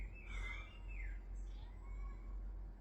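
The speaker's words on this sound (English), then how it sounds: "Yes, you can hear the birds" A few thin bird chirps and tweets ring out faintly over a steady low rumble, with short gaps between calls.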